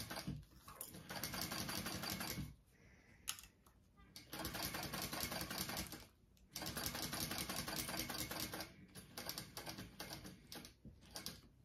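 A sewing machine stitches a backpack in rapid mechanical bursts with brief pauses between runs, close and fairly loud.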